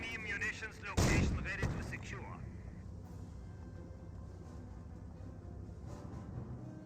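Shells strike a bunker in the World War II strategy video game Company of Heroes. A loud, sharp impact lands near the start, another hit follows shortly after, and steady battle ambience and a talking voice continue underneath.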